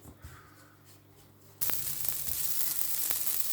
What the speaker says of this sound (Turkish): hala bu çıtır çıtır sesler eşliğinde karıştırmaya devam ediyoruz